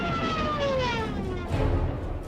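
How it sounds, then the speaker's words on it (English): Wartime dive bomber sirens wail during an attack on Poland, a steady drifting rising-and-falling howl heard at moderate distance over a rough background of engine noise. "Dive bombers with ear-splitting sirens clear the path for the attack of ground forces."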